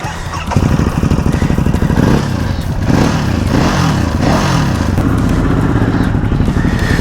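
A 2024 Ducati Hypermotard 950 SP motorcycle fires up close by after a brief quiet moment, then settles into a loud, steady idle with punchy revs rising and falling, no one speaking.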